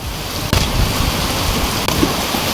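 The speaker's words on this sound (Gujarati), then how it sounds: "ચકલાસીમાં જોરદાર વરસાદ ચાલુ થઈ ગયો છે" Heavy first rain of the season pours down with wind in Chaklasi, a dense, steady, loud hiss with no pause and no talk.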